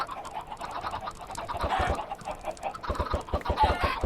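Rapid clucking Minecraft chicken sounds repeat in quick bursts, fairly close, with a few sharp mouse clicks scattered through the noise.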